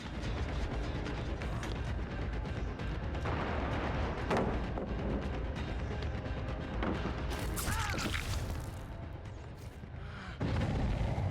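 A flashbang grenade going off in a video game, a sharp bright burst with ringing hiss amid ongoing booming gameplay noise and mechanical clatter, fairly loud and without talk.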